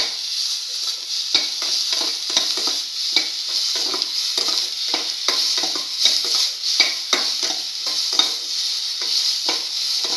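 Cinnamon-spiced scrambled egg and tomato stir fry sautéing in a pan, with a loud, constant bright sizzle and a quick, rhythmic run of spatula scrapes and taps throughout.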